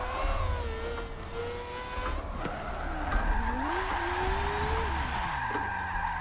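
An old race car in a racing game slides sideways in a drift, tires skidding and squealing continuously while the engine note climbs and falls through gear changes, loud and close throughout.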